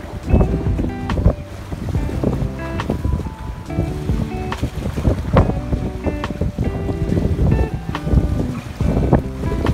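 Strong wind buffets the microphone on a small boat at sea around the Nam Du islands in Vietnam during a fishing trip, a steady loud roar running throughout with layered tonal sounds over it.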